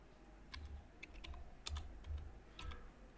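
Soft, quick keystrokes on a computer keyboard as a search keyword is typed, about half a dozen light taps over a low steady room hum, close and quiet.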